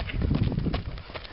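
A young horse trots on a lunge line in a muffled, low thudding rhythm of hoofbeats on soft ground, with faint background noise and no clear voices.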